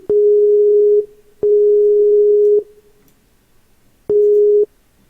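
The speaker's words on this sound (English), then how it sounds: "let me try calling him back" Telephone busy signal heard during a call-back attempt: three loud, clean beeps of about a second each, separated by short gaps, with no talk.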